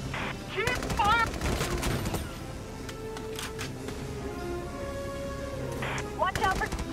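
Bursts of rapid gunfire from the video game Valkyria Chronicles 4, crackling volleys and machine-gun rattles in a tactical battle, with voices shouting over the shooting.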